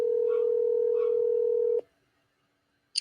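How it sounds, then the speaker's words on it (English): A telephone keypad sends out one long, steady dialing tone for nearly two seconds. After a short silence a brief electronic chirp follows, as a call is placed for a live podcast. "Let's make a phone call right quick."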